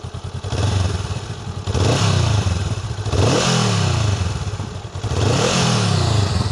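A Honda Rebel 500 motorcycle engine revs up three times in quick succession while stationary, each rise and fall loud and close, with idling in between.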